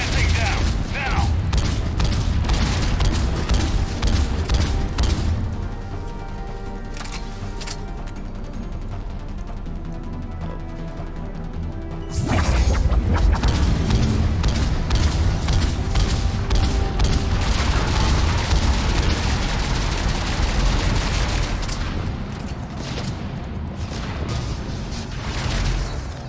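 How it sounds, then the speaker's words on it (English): Explosions and gunfire rage through a Mass Effect 3 battle against an Atlas mech, a dense continuous barrage of booms and bursts that swells louder midway and stays loud to the end. "Alright, making them all explode"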